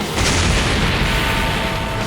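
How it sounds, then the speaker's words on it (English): A loud, rumbling explosion blast from a Dragon Ball fight fills the air, broad and heavy, then slowly decays without any voices. "Although encumbered by the explosion, Mato comes out unscathed"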